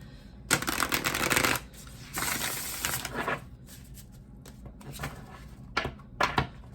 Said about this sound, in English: Beautiful shuffle going on.